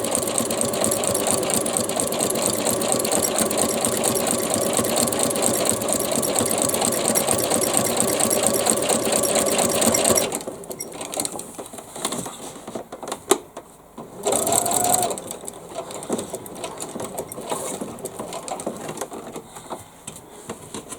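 A sewing machine stitches a backpack with a steady, fast mechanical whirr and rapid needle rhythm for about ten seconds, then stops, followed by a few brief bursts and handling noises.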